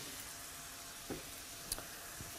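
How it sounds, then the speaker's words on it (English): Soft, steady sizzling of vegetables, including red bell peppers, in a skillet, faint and continuous, with a few small pops and clicks of food frying. "starting to sizzle there."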